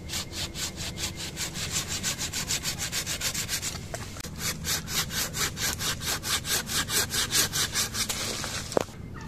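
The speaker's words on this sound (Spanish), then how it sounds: "vamos a utilizar un serrucho para hacer el corte bien fino, que quede bien pegadito al árbol" Hand saw cutting through an avocado tree branch during formative pruning, steady rhythmic back-and-forth strokes, close and fairly loud, running continuously with a brief pause near the middle and a sharp snap near the end.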